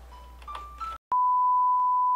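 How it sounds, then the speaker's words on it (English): A phone rings with an incoming call. A few short electronic tones give way to a loud, steady single-pitch electronic ring that holds for about a second, with no one speaking. "Wow, unexpected phone call."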